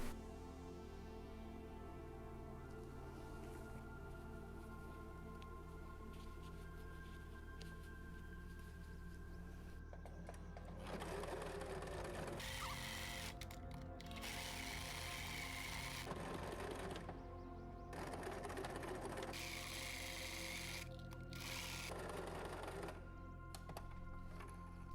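Sewing machine stitching a double hem through three layers of a strap, starting after a quiet stretch with fast mechanical whirring bursts that stop and restart several times.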